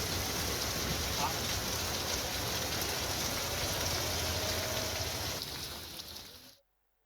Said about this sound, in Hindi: लगातार बारिश देखने को मिल रही है